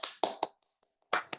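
A few people clap at close range on a rugby league podcast to welcome a guest: a quick group of three claps, a short pause, then two more.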